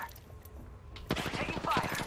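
Gunfire in the battle royale game Apex Legends: a quieter lead-in, then a dense, rapid burst of shots from about a second in, loud and continuous to the end, with a voice mixed in.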